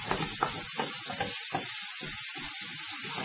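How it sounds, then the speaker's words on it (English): Asparagus and celery frying in a pan for a green pasta dish, a steady bright sizzle and hiss with small popping crackles throughout, close and continuous. "So we're just going to fry these up."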